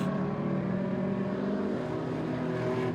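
Street stock race cars lapping a dirt oval in a feature main event, a steady dense engine roar with layered tones from several cars running together, loud and continuous, no voices.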